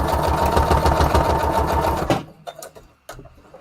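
A sewing machine runs steadily for about two seconds, stitching a straight stitch on layered junk journal embellishments, then stops, leaving a few small clicks and handling noises.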